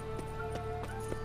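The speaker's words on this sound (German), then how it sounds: "Ein Pferd." Hooves of a horse in the video game The Witcher III: Wild Hunt, a steady clip-clop of about four even steps over a constant background hum.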